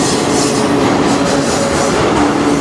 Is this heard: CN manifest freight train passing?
yes